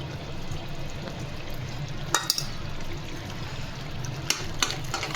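Mustard and poppy seed paste added to a pan, giving a steady, moderate sizzle with a couple of brief clinks near the middle and end, no talking.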